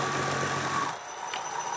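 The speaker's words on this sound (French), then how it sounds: "Donc je démarre le gros moteur." A large motor coupled to an asynchronous generator starts up, giving a steady loud hum with a tonal whine that shifts and drops in pitch partway through.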